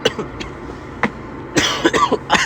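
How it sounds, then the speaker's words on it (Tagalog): A person coughs several times in quick, close bursts, harsh and fairly loud, with short gaps between them. "Ang lamig kasi guys, kaya ako inuubo."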